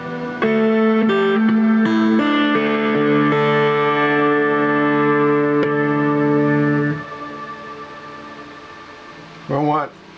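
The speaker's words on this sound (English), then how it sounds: "If I want reverb and distortion, I hit both of those." Electric guitar played through a JMP amp with reverb and distortion on, several sustained overdriven chords ringing out with a reverberant tail, then a brief spoken word at the end.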